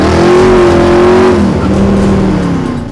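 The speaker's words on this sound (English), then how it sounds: "Is it the sound of a throaty V8?" A loud, throaty V8 engine of an American car at the Woodward Dream Cruise revs up, then drops in pitch as it eases off, deep rumble dominant throughout.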